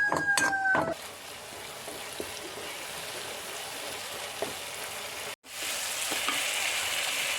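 Green chillies fry in oil for a cauliflower masala curry, making a soft, even crackling sizzle. A few clinks of a utensil come early, and there is a brief silent gap before the sizzle resumes.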